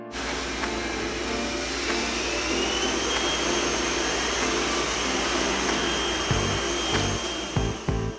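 A Roborock Qrevo Curv robot vacuum runs across medium-long pile carpet, giving a steady, loud motor whir that holds for the whole stretch, with a few soft bumps near the end.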